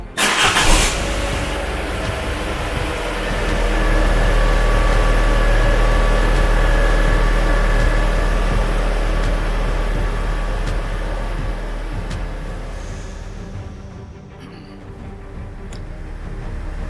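A Fiat 500 with 63,000 miles, in a garage, cranks briefly, catches and settles into a steady, smooth idle that carries on close and loud with no talking.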